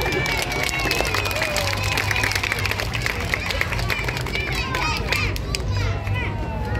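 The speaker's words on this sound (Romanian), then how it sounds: "Aplauze!" Spectators at a gladiator combat show during Cluj city days clap and murmur in a dense, continuous crowd roar, with a voice talking over the noise.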